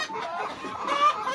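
Local village chickens, with a rooster among them, give soft, close, intermittent clucks over a quiet barnyard background.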